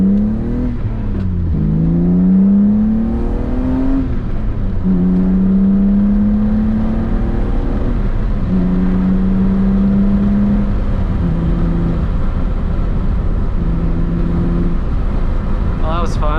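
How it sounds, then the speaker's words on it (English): A BMW E36 M3 with a lighter flywheel pulls hard under acceleration, its exhaust note rising in pitch through the gears with clear shifts between rising sweeps, loud and close from inside the car. "let you kind of hear the exhaust a little bit"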